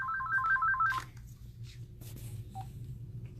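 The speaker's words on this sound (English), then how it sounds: "We're going to answer this phone really quick." A shop telephone rings with a rapid warbling electronic trill for about a second, followed by quiet room noise, small handling sounds and a faint low hum.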